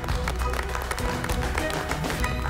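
A studio audience applauds the LEGO Masters contestants with continuous, moderately loud clapping that stays even for a few seconds, with no talking over it.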